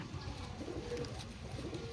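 Low, rolling coos come from a closed-tail pigeon, a steady soft burbling close by with faint background noise and little else.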